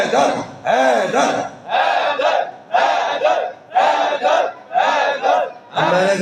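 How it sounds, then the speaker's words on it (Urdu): A dense crowd roars a repeated religious slogan together, roughly seven loud chanted bursts in steady rhythm with short gaps, with a voice briefly audible near the end. "نعرے حیدر کے لگ رہے ہیں"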